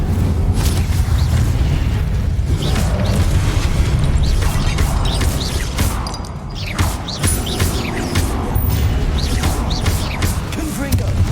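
Confringo and Incendio spell blasts in the video game Hogwarts Legacy: a continuous barrage of booming, crackling impacts and rumbling fire over a heavy low roar, with many sharp transient cracks layered throughout.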